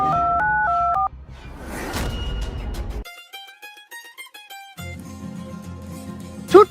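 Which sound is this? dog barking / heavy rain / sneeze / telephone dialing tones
telephone dialing tones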